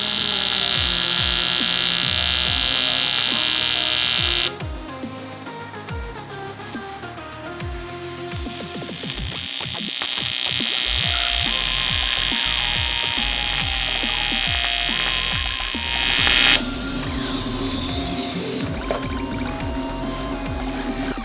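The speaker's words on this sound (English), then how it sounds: "Welding aluminum is really hard." TIG welding aluminum onto a turbo fitting for a Holset turbo upgrade on a 1JZ Supra, a close, steady electric buzz and hiss from the arc that shifts in tone as the weld runs, with no talking.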